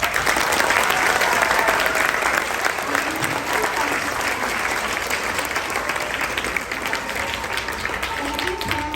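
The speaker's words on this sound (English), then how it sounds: "Can we get a round of applause?" A crowd at a fourth grade poetry slam claps in sustained, dense applause that stays loud and even throughout, with faint cheering and voices mixed into the clapping.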